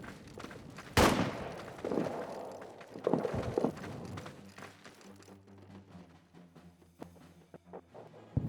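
Scattered gunshots from a World War I trench battle in All Quiet in the Trenches, with one loud near crack early, then several sharper thuds and distant pops spread irregularly through the stretch.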